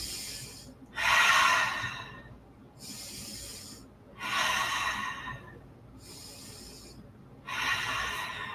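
Slow, deep yoga breaths, alternating long inhales and exhales in a steady rhythm, close and clear with nothing else around them.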